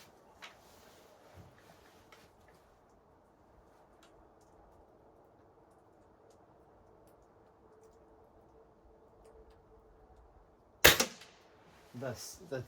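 A Shanghai China Model 62 air rifle fires a pellet at a target 20 yards away, a single sharp crack near the end after a long stretch of quiet room tone, followed by a couple of fainter clicks.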